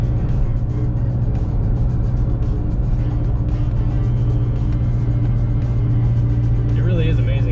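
Steady low road and engine rumble inside a 2012 Subaru Forester while driving after a transmission replacement, a constant drone with no distinct events and a faint whine near the end.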